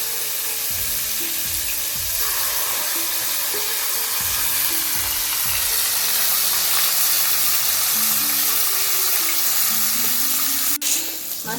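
Fish, with its head just added, fries in hot oil in a pan, a continuous loud sizzle with bursts of crackling and a few scraping stirs, ending with a sharp clink.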